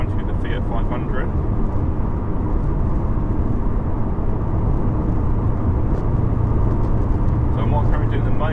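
A car holds fourth gear at about 60 mph, giving a steady, loud engine and road drone throughout with someone talking over it.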